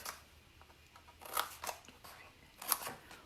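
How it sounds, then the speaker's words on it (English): Scissors cut paperboard tabs along the bottom of a candy corn treat box during a papercraft project, giving a few crisp, faint snips spaced apart in a quiet room with no talking. "we're going to take my scissors, and along the bottom here, we're going to cut up"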